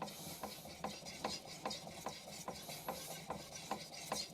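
Steady, rhythmic scraping of a knife drawn back and forth across a fine 3000-grit Altstone Rin splash-and-go whetstone, with evenly spaced strokes and a smooth, glassy rasp up close.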